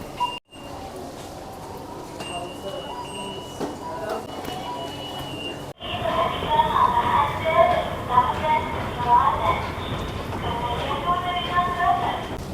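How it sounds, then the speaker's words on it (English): A commuter train in Jakarta rumbles past with a rising rush and rattling wheels, loud and close, following a quieter station hum with announcement tones. "It looks like a commuter train goes past here as well"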